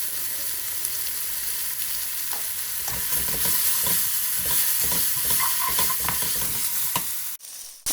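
Onions sweat in a pan with salt for a prawn biryani. A steady hissing sizzle runs throughout, joined partway by scraping stir strokes and light clicks of a spoon against the pan, with no talking.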